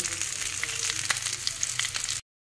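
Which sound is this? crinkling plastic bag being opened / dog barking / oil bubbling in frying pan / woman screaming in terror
oil bubbling in frying pan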